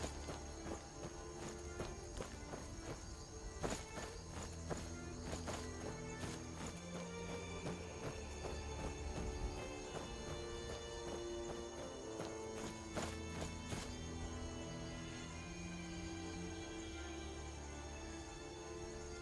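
Horse hooves clip-clopping in the video game Skyrim, a steady run of hoof beats heard faintly over busy game music and ambience, with no talking.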